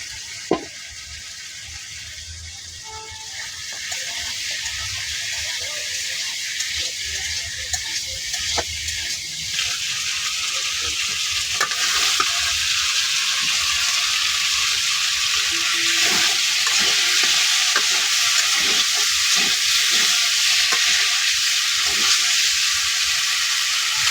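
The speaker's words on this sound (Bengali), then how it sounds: "মুখি আমি কষা নিচ্ছি" Arum root (mukhi) sautéing in a pan gives a steady, loud sizzle that builds and hisses continuously, with occasional stirring scrapes and a sharp clank near the start.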